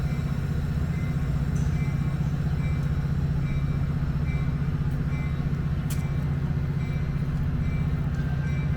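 A METRA commuter train passes through Lombard with a loud, unbroken rumble and a droning hum that stays steady and close the whole time.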